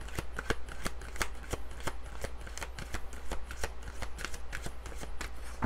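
Oracle cards being shuffled and drawn during a Pisces angel-message reading, giving a steady run of crisp, rapid riffling flicks close to the microphone, with no talking over them.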